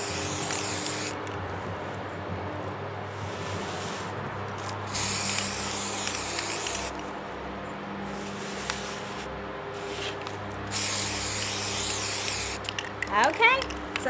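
Clear glitter spray paint hisses onto a pumpkin in three long, close bursts separated by pauses, with faint background noise between them.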